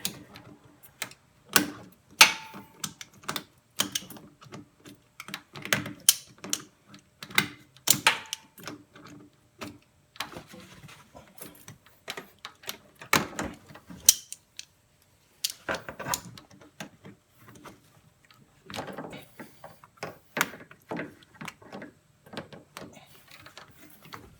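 Hose clamps are fitted on the power steering line of a 2010 Honda Odyssey, heard as scattered close metallic clicks, ratcheting snaps and tool taps in irregular bursts against a quiet background.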